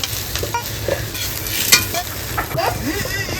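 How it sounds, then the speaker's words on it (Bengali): Vegetables sizzle in a hot wok over a wood fire while a utensil stirs and scrapes them, bright frying hiss with repeated metallic clinks and scrapes up close, no talking. "সবজিটা কিন্তু ভালো করে ভাজা হয়ে গেছে"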